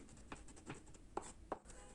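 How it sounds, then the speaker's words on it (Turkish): Madımak (knotweed) leaves are chopped finely on a board with a knife, producing a few faint, soft, irregular taps in a quiet kitchen. "Artık doğram işlemine başladım."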